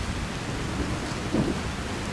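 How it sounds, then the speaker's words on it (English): Rain and rolling thunder in the video game Skyrim, a steady hiss of rainfall with a low rumble swelling briefly near the middle. "Let's just get out of this sodding rain."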